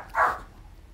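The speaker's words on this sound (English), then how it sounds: "That's my dog. It's a Chihuahua, so it sounds kind of funny" A Chihuahua gives a single short, high yappy bark, fairly close, then quiet room tone.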